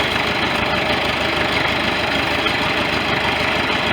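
A 1973 International loader tractor's diesel engine runs steadily and loud up close, a constant rumbling drone with rough knocking texture and no pauses.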